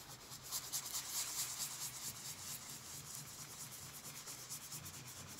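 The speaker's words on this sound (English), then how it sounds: "I've squirted a little bit of the isopropyl alcohol on there. Now I'm just going to start scrubbing." A sticky Nexus 10 tablet surface is scrubbed with isopropyl alcohol, giving quiet, close rhythmic rubbing strokes that repeat steadily throughout.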